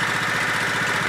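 A Kohler Command 18hp engine in a Craftsman LTX1000 lawn tractor idles steadily at close range, an even low throbbing drone with no revving, heard alone.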